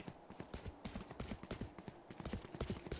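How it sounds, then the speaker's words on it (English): Footsteps in the video game Valorant: a quick, rhythmic run of sharp, faint thuds repeating steadily throughout, like a character running across hard ground. "Too many footsteps being given away."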